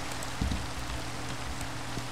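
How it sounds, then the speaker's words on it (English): Rain falling in the Minecraft video game, a steady dense hiss of drops on surfaces with a couple of soft low thumps, heard alone without talk. "I like the new rain sounds. It's actually really peaceful."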